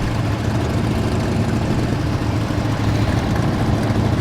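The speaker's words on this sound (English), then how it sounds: "Oh, this SV Yoshi exhaust." A Suzuki SV motorcycle fitted with a Yoshimura exhaust runs at a steady, loud idle among other riders at a charity motorcycle ride, a dense low rumble that never lets up.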